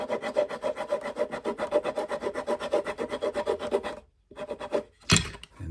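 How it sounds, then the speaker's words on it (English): Small sanding stick rubbed back and forth over the wooden corners of a guitar body ahead of shellacking: fast, rhythmic scratchy strokes, close and steady, followed by a brief pause, a few more strokes and one louder scrape. "go ahead and get your little sanding stick"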